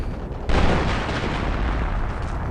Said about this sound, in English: I think an air bombardment is coming from the American side.